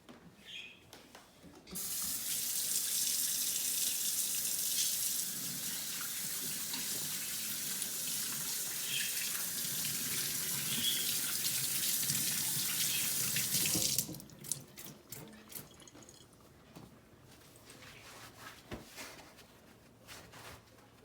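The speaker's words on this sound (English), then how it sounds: "The first thing you should always do before you start cooking is to wash your hands." Water from a kitchen tap runs steadily for about twelve seconds as hands are washed, a loud close hiss, followed by scattered clicks, clatters and drips once it stops.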